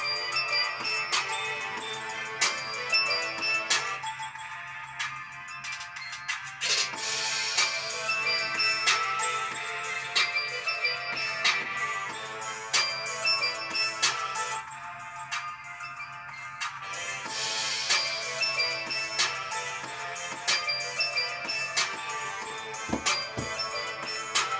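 A song plays through the dual speakers of a ZTE Blade Max View budget phone: a bright, tinny electronic tune with repeating tonal phrases, steady and moderately loud, with two brief breaks in the higher layers.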